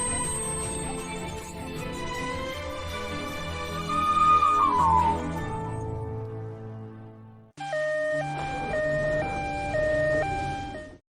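An ambulance siren wails loudly with a rising and falling tone over a rumbling background, then switches to a rapid two-tone alternating pattern, continuous for about eleven seconds.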